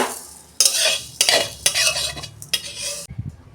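Roasted moong dal poured out of a pan, several loud close bursts of rushing, rattling grains and scraping spatula strokes against the metal, separated by short pauses and ending with a few softer clinks.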